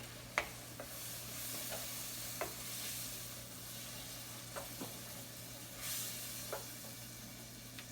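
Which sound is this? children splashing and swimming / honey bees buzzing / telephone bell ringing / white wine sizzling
white wine sizzling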